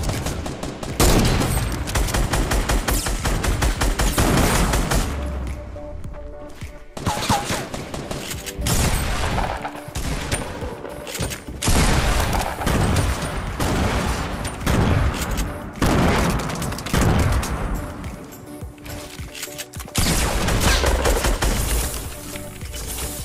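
Rapid, sustained automatic fire from a drum gun in the battle royale game Fortnite, loud and nearly continuous across the whole stretch with brief breaks between long volleys.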